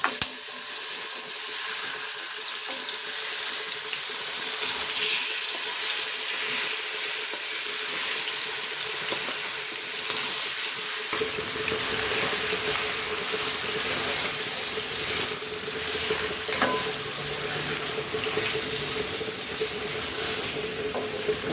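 Chicken pieces slid into a pan of hot oil with frying spices, including black pepper and cinnamon, sizzling steadily and close up for the whole stretch, with a louder, fuller hiss in the second half and a faint stirring scrape.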